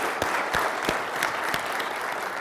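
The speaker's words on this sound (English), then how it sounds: "Can we get a round of applause for Diane?" An audience applauds a speaker at an OpenShift Commons tech event in a steady wash of clapping, with a few sharper claps standing out near the front.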